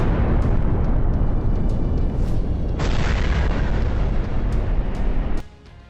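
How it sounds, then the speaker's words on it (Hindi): A GLSDB guided bomb strike explodes in Luhansk, a loud, sustained roaring blast and rumble lasting several seconds before cutting off abruptly into quieter distant noise. "जबरदस्त धमाके का ये वीडियो लुहांस्क का है। दावा है कि ये हमले GLSDB यानी ग्राउंड लॉन्चर स्मॉल डायमीटर बम से किया गया।"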